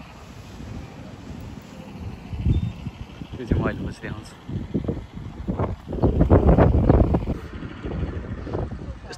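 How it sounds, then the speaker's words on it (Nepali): Strong gusty wind buffets the microphone in rumbling, uneven surges that swell louder midway, while a person talks over it. "यस्तो डेन्जर हावा चलिरहेछ गाइज"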